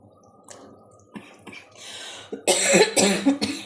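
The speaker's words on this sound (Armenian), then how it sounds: "Այս հազը ինձ չի թողնում" A few sharp coughs in quick succession, close and fairly loud, following quieter rustling and small handling noises.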